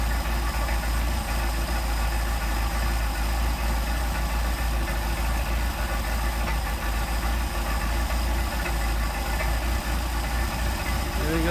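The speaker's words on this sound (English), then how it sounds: "I'm going to start adjusting the idle mixture screw, and you'll see the difference as we drop the RPM." A Mercedes 190SL engine idles while its Solex carburetor is adjusted, producing a steady, close, loud low rumble that stays even and continuous throughout, with someone talking over it.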